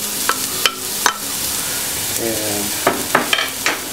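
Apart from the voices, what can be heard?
onions frying in olive oil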